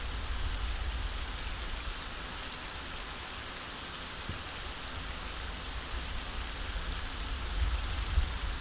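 Steady rain in the zombie survival game Project Zomboid, a constant even hiss of downpour heard alone at a moderate level with no talking.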